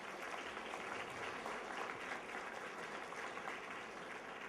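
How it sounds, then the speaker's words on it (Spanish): Audience applause after a lecture by a doctor on collaborative project-based learning, a steady wash of many hands clapping that holds at an even, moderate level throughout. "Agradecemos a la doctora con un fuerte aplauso"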